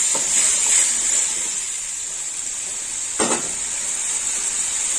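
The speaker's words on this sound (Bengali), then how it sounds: "মশলাটা একটু কষে নেবো।" Spice paste frying in a pan for a Bengali puti fish and onion chachchari, a steady close sizzle and hiss throughout, with a couple of brief stirring scrapes, no talk.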